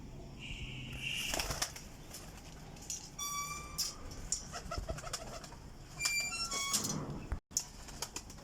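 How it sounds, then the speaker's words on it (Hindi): Teddy golden flying pigeon cooing in bursts alongside sharp wing flaps and scattered chirps from other birds, close by and moderately loud, with short clattering flurries of flapping across the stretch. "टैडी गोल्डन कबूतर जे क्रीज लगी है जे माशाल्लाह जी।"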